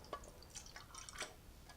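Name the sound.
Dettol being poured onto painted object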